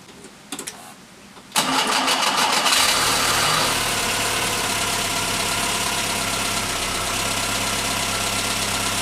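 A Skoda Favorit, freshly serviced, cranks over and starts, then settles into a steady, close idle with a slight tappy mechanical clatter after a few brief knocks beforehand.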